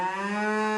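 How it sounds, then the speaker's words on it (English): Cattle drinking at a brook produce a single sustained moo, steady and fairly loud, heard alone. "Cows came to the brook to drink."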